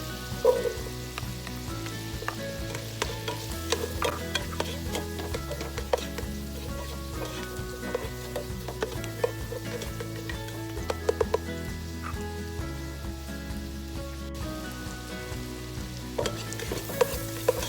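Garlic and onion fry in a pan, a steady close sizzle with occasional stirring scrapes while music plays softly underneath.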